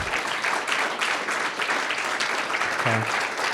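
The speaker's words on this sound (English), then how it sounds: "Let's give them a round of applause." Steady applause from an indoor audience at a scout troop's 100th anniversary celebration, honoring standing parent committee members, with many hands clapping for several seconds before a voice briefly cuts in.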